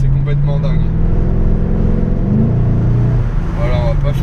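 A Chevrolet Camaro SS with a 6.2 V8 revving: a loud, deep engine note that rises and falls, swelling in pitch midway before settling back to a rumble, heard up close.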